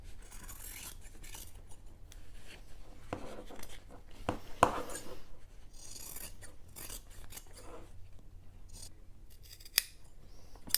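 Scissors trim the seam allowance of a sewn fabric sling bag, giving soft, close snipping and rasping cuts in a quiet room, with a few sharper snips standing out.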